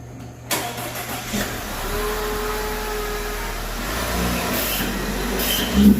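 An Audi B8.5 with the 2.0 TFSI turbo engine starts up, then idles and is revved, with turbo whoosh rising over a steady mid-pitched engine drone and a final louder surge, close and fairly loud.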